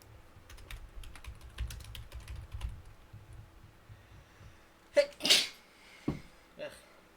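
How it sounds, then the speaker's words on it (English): A person sneezes sharply, then makes a second softer burst, close up after a stretch of quiet keyboard typing and faint background voice. "Sneezed again."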